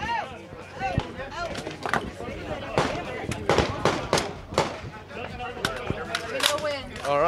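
Sharp gunfire from a hybrid HK-33-based rifle at an outdoor range during a trade show range day, loud repeated cracks in irregular succession with people talking throughout.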